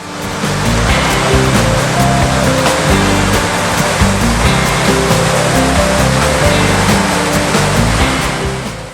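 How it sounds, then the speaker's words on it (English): Cold, clear glacial meltwater stream pouring down a mountain valley in New Zealand's South Island, a loud, steady, continuous rush of water that fills the whole clip, with no voices. "This valley has a very clear and cold water streaming down all the way from the melted snow on the mountain."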